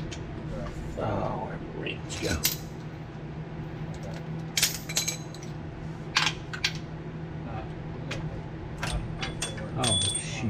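Metal tools clink, ratchet and tap in scattered bursts while a car starter is being fitted, against a steady low hum and background noise, with some talking in between.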